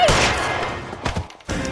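Gunshots in the video game L.A. Noire: a loud, rough burst at the start, then two sharper, shorter bangs later on, with a brief gap between them and nobody talking.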